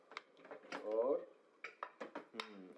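Cooked dal is mashed in a metal pot, with spoon knocks and clinks against the pot in short irregular bursts while someone talks over it.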